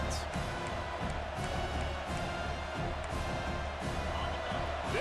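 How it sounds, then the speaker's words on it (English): Stadium crowd roars through a college football game between Miami and Indiana, a dense, steady wall of cheering and noise with no pauses. "This crowd bringing the energy and noise early."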